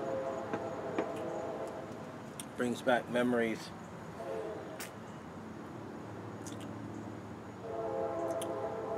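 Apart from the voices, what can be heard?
train passing with horn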